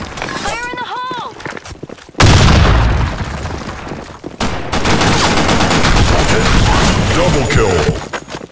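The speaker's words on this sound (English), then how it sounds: "Grenade!" In the BlackShot shooter game, a voice calls out before a grenade blast bursts loudly and close, followed by sustained rapid automatic gunfire and reports.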